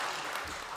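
Applause from the audience at a business award gala, a dense steady wash of many hands clapping at once, moderately loud and continuous for a brief moment with no voices on top.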